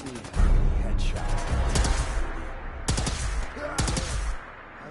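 Rapid bursts of gunfire in Fallout 4, loud and close, with several shots fired in quick clusters across the stretch and a few brief pauses between volleys.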